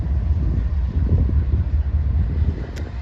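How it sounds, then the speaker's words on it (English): A BNSF freight train with ES44AC and SD70ACe locomotives rumbles past, a low, steady roar of rolling wagons mixed with wind buffeting the microphone and no talk. "We got a BNSF train coming"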